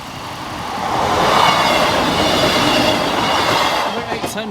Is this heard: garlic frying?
no